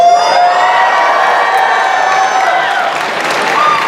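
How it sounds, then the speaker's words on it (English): A large Comic-Con panel crowd at a reunion roars with loud applause, cheering and whoops, a sustained dense wall of sound with high shouts riding on top. "Hold for Applause."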